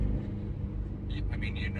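Car with an AWE exhaust accelerating, engine rumble building steadily while someone talks over it, with the windows halfway down.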